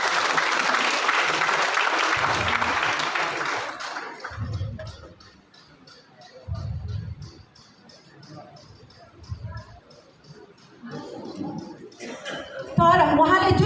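An audience at a DXN Nepal success-story event claps in a burst of applause that fades out after a few seconds. Talk with scattered crowd murmur follows, and a second smattering of clapping comes near the end.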